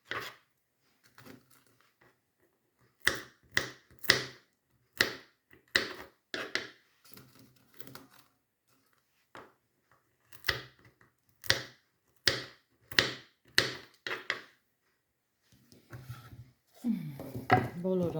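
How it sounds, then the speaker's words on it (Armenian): Walnuts for a salad are chopped with a knife on a board, sharp irregular clusters of close, crisp chops separated by pauses, with faint rustling and a brief voice near the end. "Բոլոր ընկույզներն կտրատեցի,"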